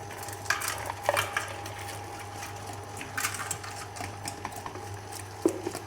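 A stand mixer beats a high-hydration bread dough at 80% hydration, a steady mechanical whir underneath, with soft slapping and clattering bursts as the dough hits the bowl, close and with no voices.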